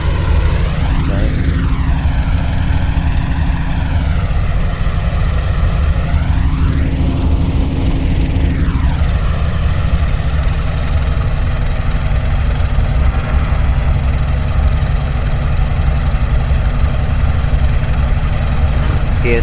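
Steady, loud drone of Avro Shackleton engines with propellers, holding a constant roar throughout, with tonal whines sweeping up and down early on and no talk over it.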